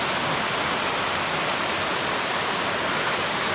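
A creek flows steadily in a continuous, even rush of water, close and moderately loud, with no voices.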